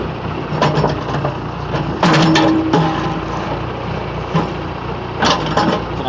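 A backhoe crushes a hard drive, its engine running at a steady hum while a few short crunching and cracking noises break through, the loudest around the middle.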